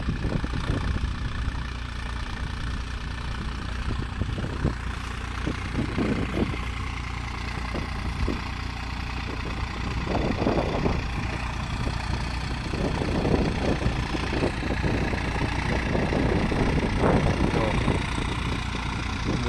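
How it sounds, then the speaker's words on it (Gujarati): A tractor engine runs steadily while pulling a heavy 500 kg reversible plough through a slightly stony field, with a constant loud, low rumble and chugging throughout. "બગડો પણ ફૂલ હેવી છે, ટ્રેક્ટર લેવલ પ્રમાણે બગડો છે."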